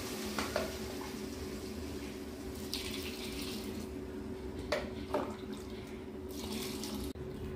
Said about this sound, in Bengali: এই জলটাকে এবারে এর মধ্যে দিয়ে দেব।